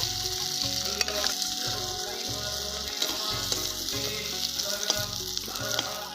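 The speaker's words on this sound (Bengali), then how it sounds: "হলদি গুঁড়ো, সরষের তেল, লাল লাল করে ভেজে নেব।" Frying in mustard oil in a pan, with turmeric powder and onions for a goat meat and potato curry, a loud continuous sizzle with rhythmic stirring scrapes, close and alone.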